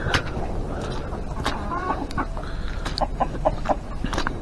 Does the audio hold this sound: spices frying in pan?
no